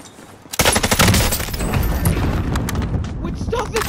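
A Bruen rifle firing in a Call of Duty game: rapid automatic bursts that start abruptly and rattle on loudly and continuously for several seconds, close and punchy.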